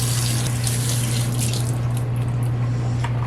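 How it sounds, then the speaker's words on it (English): A kitchen tap runs steadily as hands are washed beneath it, a close, continuous water rush with a constant low hum and faint splashing. "I'm going to wash my hands real quick."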